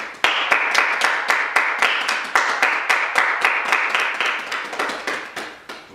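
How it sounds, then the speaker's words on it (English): A small group claps for the models at a casual home fashion show, with crisp, close hand claps in a quick, fairly even rhythm that keeps going for about six seconds without talk. "let's have a round of applause for the models"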